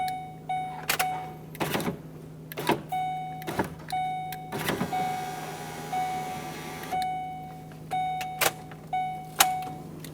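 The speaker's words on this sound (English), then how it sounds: "we're going to turn the key on and lower the regulator down without the window attached" A power window regulator motor in a Ford Expedition runs with a steady electric whine, broken by repeated sharp clicks and clacks at a roughly regular pace, close up, with the whine continuing through a longer stretch in the middle.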